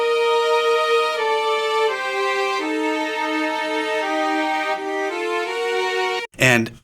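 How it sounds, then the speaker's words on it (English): A violin and cello play a slow, sustained melody together, clear and close, ending with a brief burst of noise. "A nice string section is going to play the melody here. I have a violin and cello."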